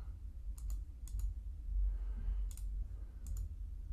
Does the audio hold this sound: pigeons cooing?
no